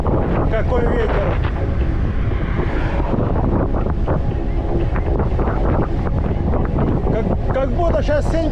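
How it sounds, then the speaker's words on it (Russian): Loud, strong wind on the Crimean coast in June buffets the microphone in a constant roar, with a voice partly audible beneath it. "Жарко, но ветер сильный."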